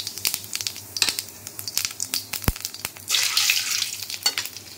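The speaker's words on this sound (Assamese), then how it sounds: "তেল গৰম হৈ গ'ল, ইয়াত দিলোঁ অকণমান জিৰা" Cumin seeds dropped into hot oil crackle and sizzle up close, with sharp pops and a brief stirring clatter that rises into a denser, louder sizzle toward the end.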